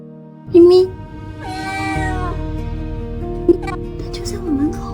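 A small stray cat meows clearly and close by, several distinct calls spread over a few seconds, with a person talking softly around them.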